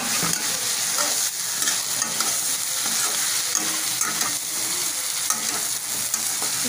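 Stuffed eggplants frying in masala in a pan, a dense continuous sizzle with soft scraping as they are stirred, loud and close with no voices.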